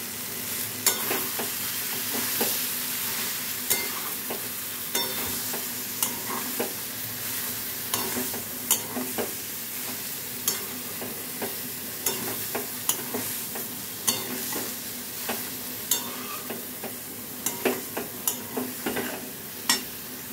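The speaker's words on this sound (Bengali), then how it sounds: "সয়াবিনগুলো দিয়ে খুব ভালো করে মশলাটার সাথে মিলিয়ে নেব।" Fried soybeans being stirred with masala in a frying pan, a steady oily sizzle punctuated by regular scraping taps of the spatula against the pan, close and continuous without talk.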